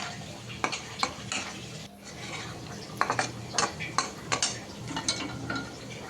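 Fish and tomatoes fry with spices in a pan for a gourd curry, giving a steady sizzle with repeated scraping and stirring strokes of a utensil against the pan.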